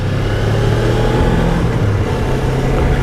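A Suzuki GSX250R motorcycle engine pulling away in gear, a loud, close, steady mid-pitched drone that rises slightly as it accelerates, with no other sounds.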